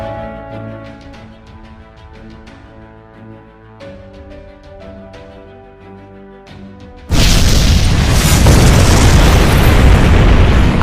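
A massive Tunguska blast erupts in the Fate/Grand Order game, a sudden loud roaring explosion that bursts in after soft piano music and rumbles on.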